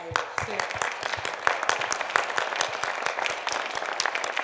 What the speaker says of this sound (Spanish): Y pido un aplauso para ellos